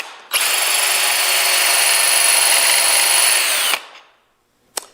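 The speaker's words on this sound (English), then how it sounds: "I'm just going to keep drilling until I hit the pen blank, the tube." A power drill bores through a wooden pen blank toward its 7mm brass tube, a loud steady whir lasting about three seconds before cutting off, then a brief sharp knock.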